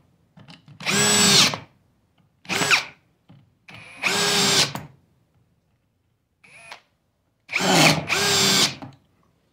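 Ridgid cordless drill in drill mode at speed 2 on a 2Ah battery, a loud close whine in five separate bursts of one to two seconds each, with silence between the runs.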